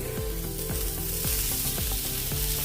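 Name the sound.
boiled potatoes added to sizzling pan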